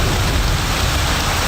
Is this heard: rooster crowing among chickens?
no